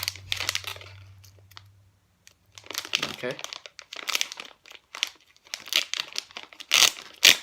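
Crinkly plastic wrappers of Pokémon and Magic: The Gathering trading card packs are cut and torn open with scissors indoors, rustling and crackling in bursts, with a person briefly speaking.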